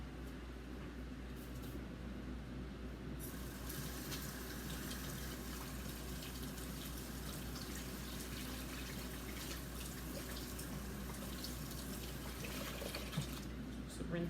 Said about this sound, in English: Rinse my hands off real fast and then get my egg.